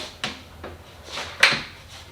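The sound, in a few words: drawer pushed closed on undermount slides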